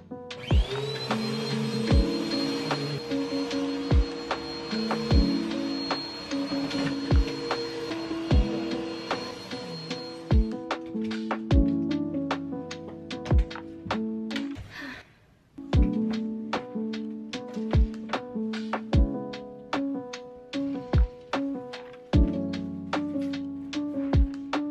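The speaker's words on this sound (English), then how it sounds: "I'm just gonna vacuum the closet floor real quick" Vacuum cleaner running on a closet floor, a steady whining motor drone with harsh harmonic tones, shifting in pitch as it moves, with repeated knocks and bumps and a brief drop out midway.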